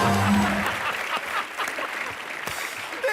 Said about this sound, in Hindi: ठोको तालियां।